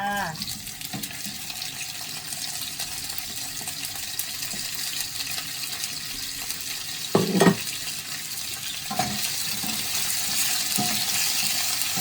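Fish stir-fried with garlic in a pan, a continuous loud sizzle with stirring scrapes and a couple of clattering bumps of the utensil against the pan.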